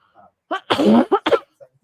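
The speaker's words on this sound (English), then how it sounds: "I have this terrible lingering barky cough" A single harsh, barking cough bursts out loudly, with a few faint breathy sounds around it and nothing else.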